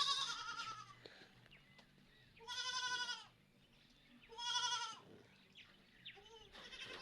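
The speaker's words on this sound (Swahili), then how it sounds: "Hii mbuzi iko na mambo kweli." A goat bleats repeatedly nearby, giving several loud, wavering calls spaced a second or two apart, with quieter rustling between them and no voices.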